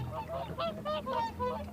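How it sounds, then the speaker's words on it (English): Whooper swans coming in to roost on water at a wetland at dusk, giving loud, repeated honking calls that overlap in a close, steady chorus. "the hooper swans were coming in to roost. Very, very loudly"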